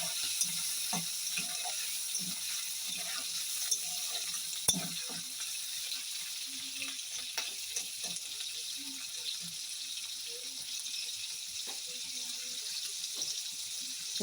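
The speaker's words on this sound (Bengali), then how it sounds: "চিংড়ি মাছটা আমি একটু ভাজা ভাজা করে নেব।" Prawns fry in hot oil tempered with five-spice seeds, giving a steady close hiss with scattered crackles and one sharp clatter partway through.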